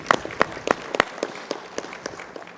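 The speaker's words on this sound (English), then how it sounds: "Are you clapping for me or for Emma?" An audience claps at a school district board of education meeting, a short scattered round of hand claps, moderately close and fairly sparse, with no talk over it.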